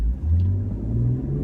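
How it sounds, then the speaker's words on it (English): A 2018 BMW X3 M40i accelerates hard in Comfort mode, its engine rising steadily in pitch from a low rumble, loud and close throughout with no talking. "So let's just do an acceleration in Comfort."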